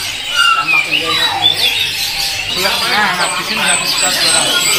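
A white-rumped shama (murai batu) for sale at a bird kiosk gives loud, sharp squawking calls and whistled phrases in close succession, with other birds and some voices from the market around it.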